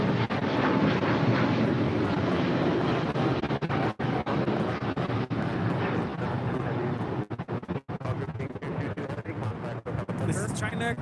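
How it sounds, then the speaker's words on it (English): A China Cargo Airlines Boeing 777 freighter departs LAX with a loud, continuous jet engine roar that stays strong throughout, with wind buffeting against the microphone and a voice talking under it. "This is China Cargo Airlines Flight 222 departing to Shanghai on a 777 freighter"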